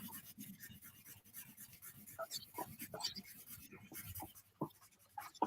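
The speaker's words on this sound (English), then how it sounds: "You can hear lots of good pencil noises." Pencil scratches and rubs on paper while colouring in a background for a drawing of a dog, soft irregular strokes close by, with faint breathy sounds between them.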